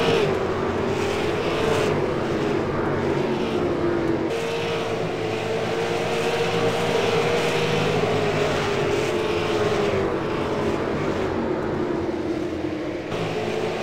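Race cars roar continuously around a short oval track during a night race, engines droning loud and close with a steady rising and falling pitch as the pack circles, no talk over it.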